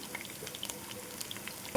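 Soft crackling and popping of chopped chicken and liver frying in oil, small scattered spits over a quiet hiss, fairly faint.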